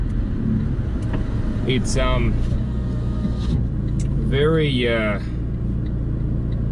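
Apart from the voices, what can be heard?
Fiat Abarth 695 Tributo Ferrari car engine while driving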